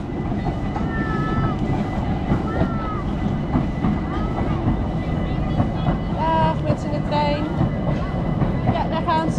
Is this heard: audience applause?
no